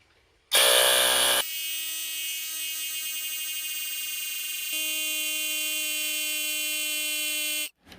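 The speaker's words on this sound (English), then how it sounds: "We're going to use our handy Harbor Freight Bauer brand portable compressor tool equipped with a DeWalt battery conversion, and we're going to inflate the tire to 36 psi." Harbor Freight Bauer portable air compressor with a DeWalt battery conversion inflating a Solex moped inner tube to 36 psi: a loud, steady buzzing drone that starts suddenly, shifts in tone partway through and then stops.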